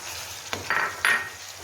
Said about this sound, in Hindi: इनको इस तरह मिक्स करेंगे।